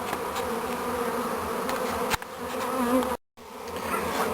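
A dense, steady hum of a swarm of honey bees buzzing together, close and continuous, broken by one brief dropout.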